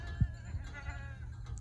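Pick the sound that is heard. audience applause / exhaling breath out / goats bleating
goats bleating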